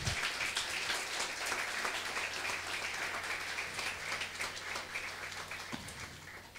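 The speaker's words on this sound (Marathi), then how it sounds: "त्या प्रभूसाठी एकदा जोरात टाळ्या वाजवूया." A church congregation applauds loudly during a Sunday sermon, a dense, steady wash of many hands clapping together throughout, thinning slightly toward the end.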